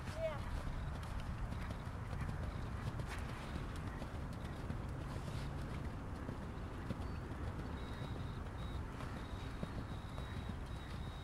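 A horse cantering at an easy, sit-able gait, its hoofbeats a soft, continuous rhythmic clip-clop under outdoor ambience, with a voice speaking faintly now and then.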